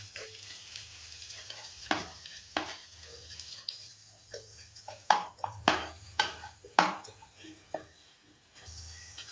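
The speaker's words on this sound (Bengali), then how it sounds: "এবার আমরা কেটে রাখা ভেজিটেবলগুলো দিয়ে দেবো।" Chopped vegetables tossed into a pan with chili paste for a soya chili, with a series of sharp clacks and scrapes from stirring over a faint low sizzle, irregular and close, with no talking.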